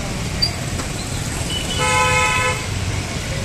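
Busy road traffic passing a collapsed dome in Jamnagar, with a car horn sounding in a sustained toot near the middle over a steady wash of engine noise.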